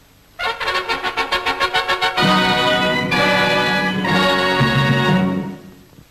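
Music for the SF Studios film logo opens with a quick run of rhythmic pulsing notes, then moves into fuller sustained orchestral chords that swell and fade toward the end.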